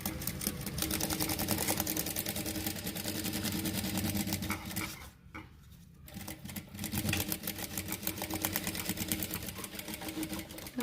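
A sewing machine stitches a folding vegetable bag in a fast, close, rhythmic whir of needle strokes, pausing briefly midway before running on again.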